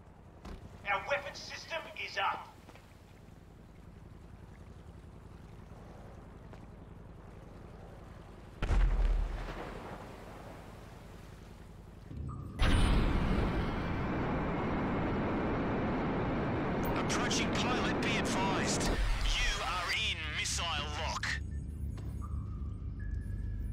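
Automated yacht defense guns in GTA Online fire on an incoming cruise missile, with sharp loud bursts of gunfire and explosive blasts that swell into a dense, sustained roar of shooting before cutting off abruptly.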